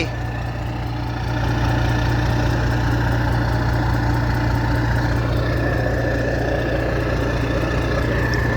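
A car engine idles through a newly fitted S-type exhaust tip, a steady low rumble that firms up after the first second and holds close and even, alone with no talk.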